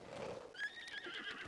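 A brown horse in Zelda: Breath of the Wild gives a short, clear whinny, close by, heard alone and mixed with faint hoof clops.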